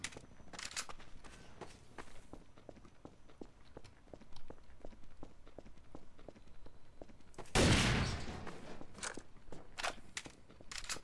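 Rapid bursts of gunfire in Trouble in Terrorist Town crackle over a steady rhythm of footsteps, with one loud explosive blast midway.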